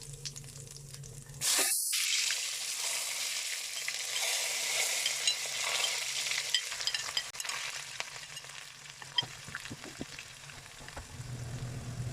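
Cumin seeds and sliced onions hit hot oil in a pan for a Pakistani macaroni dish, bursting into a loud, close sizzle that stays steady and crackling for about ten seconds.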